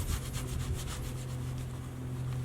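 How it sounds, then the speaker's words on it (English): Steady cloth rubbing over a hand-carved wooden bust as finish is worked into the wood, a close, continuous scrubbing with quick back-and-forth strokes and no talk. "Then just take the same little piece of cloth and just rub,"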